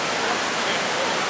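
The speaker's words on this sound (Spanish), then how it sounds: "The waterfall of Raguana." Ravana Falls near Ella, Sri Lanka, pours as a steady, dense wash of rushing water. The roar is broad and constant through the whole brief moment, with no other sound standing out.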